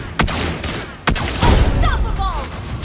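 Lesley's sniper rifle in Mobile Legends fires two sharp, loud shots about a second apart, followed by a busy wash of game effects, rumble and short electronic chirps.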